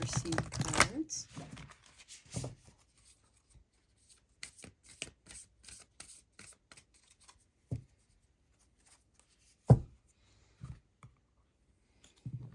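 Starseed tarot cards are shuffled by hand in a quick, close, crisp riffle at the start, followed by scattered soft clicks and card taps at irregular intervals.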